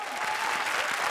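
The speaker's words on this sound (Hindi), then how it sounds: "जोरदार तालियां।" An audience bursts into steady, dense applause on a comedy show stage, loud and continuous throughout.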